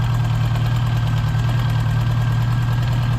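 A cold 1977 Honda GL1000 motorcycle engine idles steadily with a low, even throb and a faint rhythmic knock, loud and close, running on without a break.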